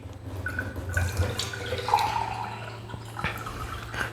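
Tap water runs from a household faucet into a glass or sink, a steady low splashing stream with a few brighter drip-like spatters, moderately close and alone without talk.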